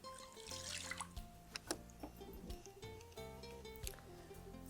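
Water is poured into a crockpot for a lentil taco filling, a soft splashing trickle mixed with light clinks and kitchen clatter, fairly quiet and close.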